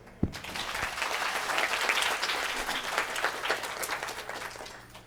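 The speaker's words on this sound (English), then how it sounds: "I'd like to give a round of applause to all the mentors that helped with camp this year." Audience at a children's camp graduation ceremony applauds the mentors, a full round of clapping that swells and then fades out over several seconds.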